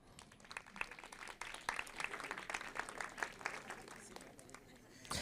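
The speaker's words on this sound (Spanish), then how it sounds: "Un aplauso para las suegras." Audience applause for mothers-in-law at a Spanish-language Christian talk, a dense wash of many hands clapping steadily for about five seconds, fairly close and loud.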